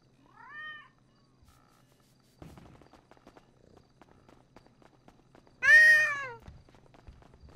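In GTA 5, a cat gives a short meow, then quiet footsteps and soft bumps follow before a loud, close, drawn-out meow near the end, with nothing else in the background.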